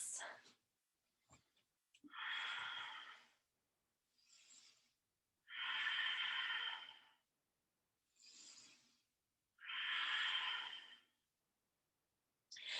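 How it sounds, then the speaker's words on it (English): Slow, deep breaths in a flow yoga class, several long airy inhales and exhales in an even rhythm with quiet pauses between, close and fairly soft, with no talking. "3 deep breaths"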